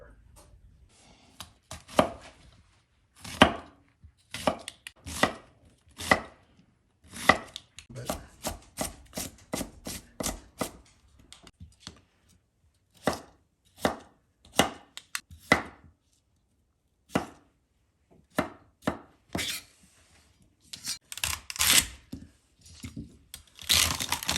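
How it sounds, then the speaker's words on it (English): A knife chops celery and potatoes on a cutting board for a pressure-cooker soup: close, crisp strokes come in irregular bursts and quick runs, with no talking. "The potatoes, I'm going to quarter or maybe a little bit smaller"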